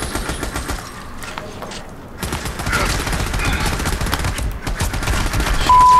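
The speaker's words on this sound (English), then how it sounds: "Except I'm getting shot at." Heavy gunfire erupts in the Army of Two video game, with rapid overlapping bursts of shots and automatic fire that build to a loud, sustained barrage.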